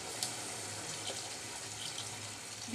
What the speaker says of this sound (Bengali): আমি এবার দিয়ে দিচ্ছি পানি